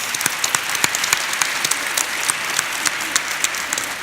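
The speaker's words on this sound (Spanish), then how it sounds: "Un aplauso para él también" A conference audience at Congreso Futuro 2019 applauds steadily for a sociologist and essayist, dense even clapping from a large hall crowd, sustained without a pause.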